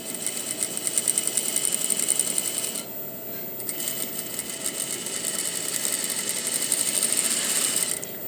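A sewing machine stitches a skirt seam with a continuous rattling whir up close, easing briefly near the middle before carrying on steadily.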